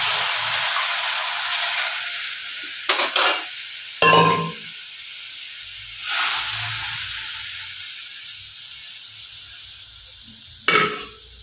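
Dal poured into hot tempered oil in a Bengali home kitchen gives a steady loud sizzle, broken by several sharp scraping stirs and bursts of spluttering, up close with no talking.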